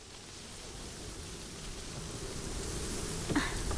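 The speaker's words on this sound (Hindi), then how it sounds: "कितनी तेज हवा चल रही है" Strong wind blowing at night before rain, a steady broadband rush that builds slightly in loudness across the whole stretch, with one brief sharper gust near the end and no voices.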